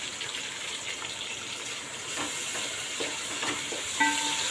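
Curry leaves frying in a pan with onion and green chilli, a steady broad sizzle with a few soft stirring scrapes, close and continuous with no talking.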